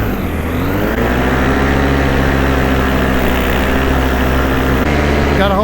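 Light aircraft engine running steadily while taxiing on the ground, a loud, continuous low drone with a faint voice over it near the end.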